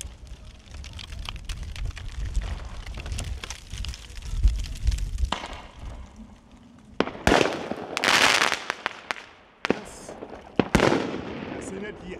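Polish firecrackers (El Titanio, TXP 010, Ultas Liberi, Viper 1) bursting outdoors, with a run of loud, sharp bangs and crackling reports, some close and some farther off, mixed with distant popping.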